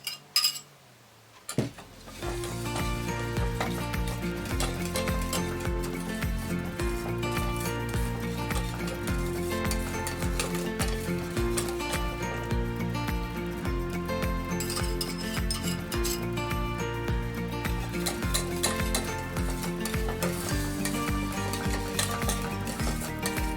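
Whisked egg yolks being stirred into a custard mix in a pot, with a steady scraping and clinking of a utensil against the cookware that runs on without pause and with no talk.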